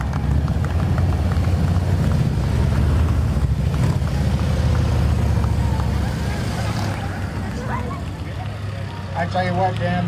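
Motorcycles of a veterans motorcycle association from Tucson riding in a Veterans Day parade, a steady low engine rumble that continues throughout, with a commentator's voice talking over it.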